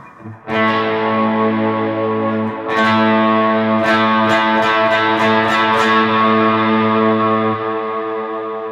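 Sustained electric guitar chords through Flint and BigSky reverb pedals on the Cloud setting, drenched in huge, washy reverb, with a few bright plucked notes ringing out over the swelling ambient tail.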